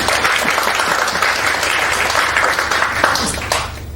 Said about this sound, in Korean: 감사하면서 박수 한번 합니다.